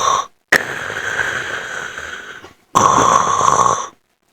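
A voice imitates heavy snoring like Darth Vader breathing, in two long, loud, close rasping breaths separated by brief silences.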